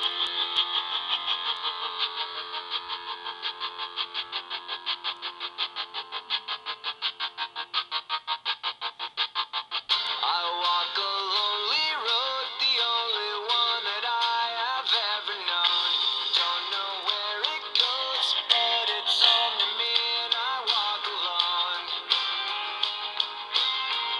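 Music played from a PSP through small external speakers, a steady rhythmic pulsing passage followed by a busier, brighter section, moderately loud and without talk.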